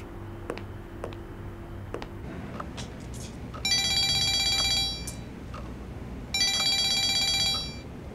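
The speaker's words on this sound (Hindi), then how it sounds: "मैं जरा ज़ैनब को फोन कर लूं, फिक्र हो रही है मुझे उसकी।" A telephone rings in two long electronic bursts separated by a pause, fairly loud and close, with a few faint clicks and low hum beforehand.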